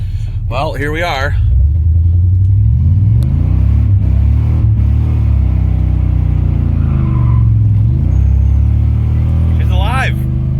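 A Chevy K2500 pickup with a 6.5 diesel runs steadily at idle, a loud, close, low rumble holding throughout while a person talks briefly at the start and end.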